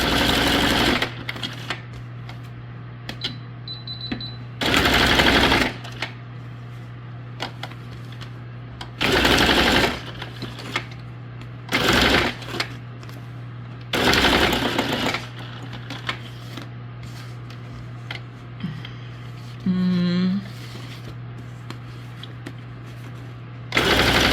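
A sewing machine stitching paper junk journal tags runs in several short bursts separated by pauses, loud and close, over a steady low hum, with a few small paper and handling sounds between the runs.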